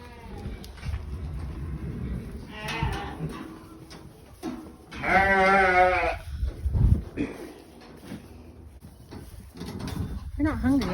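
On an Oregon farm, sheep bleat loudly before feeding, with one long wavering bleat standing out among other animal calls, shuffling and a person talking.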